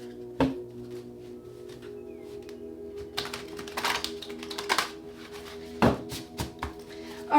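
Tarot cards being shuffled by hand, heard as crisp, papery riffling and clattering bursts that come in uneven clusters with short pauses between them, close and fairly quiet, with no talking.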